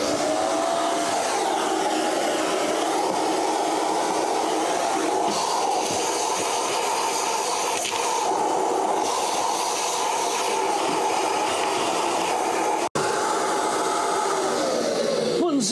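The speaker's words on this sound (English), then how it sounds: "back to the hoovering" A vacuum cleaner hoovers the floor of a Mercedes Sprinter van, running at a loud, steady whine for several seconds with shifting pitch as the nozzle moves and a brief sharp knock near the end.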